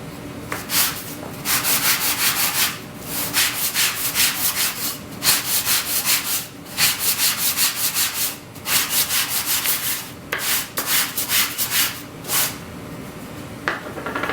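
Wooden bowl with a wenge ring being flattened for gluing, steady rhythmic rubbing strokes of abrasive across wood in repeated bursts with short pauses, close and loud with no talk.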